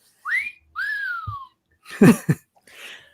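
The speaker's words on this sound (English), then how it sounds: "That was my sound effects box. Oh, it has a totally different whistle." A novelty sound effects box gives two sliding whistles, the first rising and the second gliding slowly downward. A few dull thumps and a short noisy burst follow in an indoor room.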